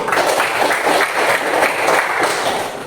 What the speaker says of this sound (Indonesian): Tepuk tangan untuk Lucy